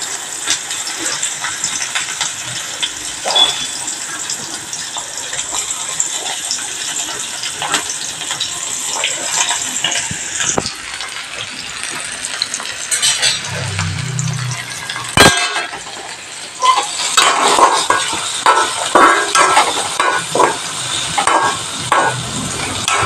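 Shallots and garlic drop into hot oil and sizzle loudly up close, a broad hiss with crackles and stirring scrapes, briefly dipping before the frying surges again.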